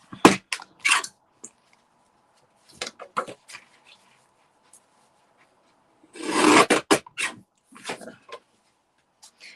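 Someone trims a balloon fringe to width up close: short crinkly snips and rustles come in scattered bursts, with a longer rustling stretch midway and quiet gaps between.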